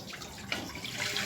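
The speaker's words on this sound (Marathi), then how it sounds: "तेल टाकून झाल्यावर टाकायचं याच्यामध्ये पाणी" Water pours and splashes into a pan that already holds oil, a steady, close rushing gush lasting about a second with no talk over it.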